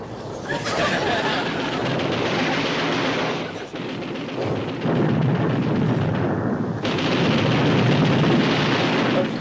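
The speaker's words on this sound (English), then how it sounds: "Fire your forward guns! Fire depth charges 3 and 4!" Naval guns and depth charges go off in a TV comedy battle scene, a dense, continuous roar of gunfire and blasts that stays loud throughout, with a brief dip near the middle before the barrage resumes.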